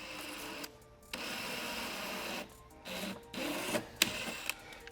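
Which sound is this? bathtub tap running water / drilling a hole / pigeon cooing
drilling a hole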